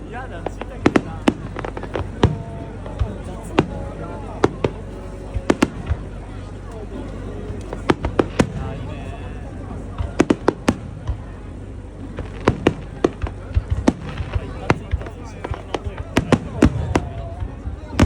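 Fireworks at the Adachi fireworks festival in Tokyo, with many sharp bursts and crackling pops going off in irregular, rapid succession over a steady crowd murmur, and people chatting nearby.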